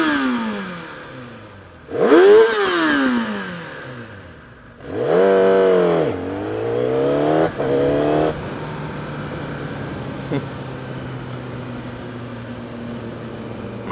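A moped engine being revved hard at full throttle on a Berlin street, in two or three loud rising-and-falling bursts with high whining pitch sweeps, then settling into a steady idle, close and alone.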